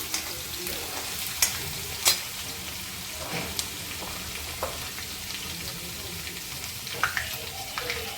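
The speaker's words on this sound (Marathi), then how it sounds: "तेल गरम झालंय आणि जिरं टाकून घेतलंय त्यात कढीपत्ता आणि लसूण बारीक करून घेतला होता" Cumin seeds, curry leaves and finely chopped garlic sizzle steadily in hot oil, a continuous close crackle broken by a few sharp pops and light stirring clinks.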